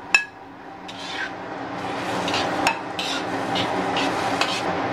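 Strips of egg are stir-fried in a wok: a sharp metal clank opens, then a running sizzle with repeated scrapes and knocks of a spatula against the pan.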